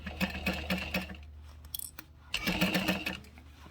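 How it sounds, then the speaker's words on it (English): A sewing machine stitching a 5/8 inch seam on lining fabric, two bursts of rapid, rhythmic needle thumps up close separated by a brief quiet pause with small clicks. "I'm going to go ahead and start increasing my seam to 5/8 of an inch."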